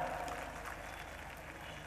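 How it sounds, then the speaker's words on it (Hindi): Audience applause at a mushaira poetry gathering in Mira Road, a steady wash of many hands clapping throughout, fairly distant and sustained without a break. "ताली बजाओ यार मजा आ रहा है।"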